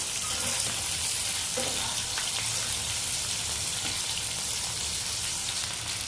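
Fish frying in a pan for a home recipe, a steady close broadband sizzle and crackle running continuously with no talking.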